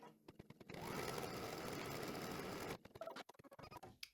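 An embroidery machine stitches a placement line for the center fabric of an in-the-hoop table runner, a dense, continuous mechanical whir lasting about two seconds between scattered clicks and taps.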